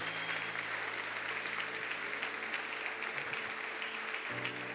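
A church congregation claps steadily in a worship service, the applause fairly distant and even, with a low sustained musical tone running underneath that shifts pitch near the end.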